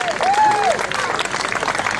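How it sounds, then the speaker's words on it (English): Spectators cheer and clap as runners approach the finish line on race day, a lively sustained burst of applause with whoops and a rising shout near the start, voices mixed through the crowd. "Give them a cheer as they come home."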